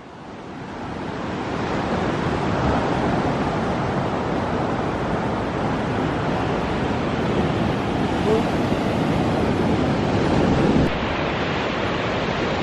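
Ocean waves roll onto a black sand beach on Flores Island, Indonesia, making a steady, broad roar of surf mixed with wind buffeting the microphone, loud and close throughout.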